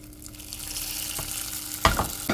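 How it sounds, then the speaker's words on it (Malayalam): Curry leaves drop into coconut browned in oil for Kerala pumpkin erissery, a low sizzle building gradually before a sharp, loud burst of spitting crackles near the end, no voices. "ഈ തേങ്ങ ഈ ഒരു കളറിൽ ബ്രൗൺ കളറിലായി വരുമ്പോൾ നമുക്ക് ഇതിലേക്ക് ആവശ്യത്തിന് കറിവേപ്പില ചേർത്ത് കൊടുക്കാം"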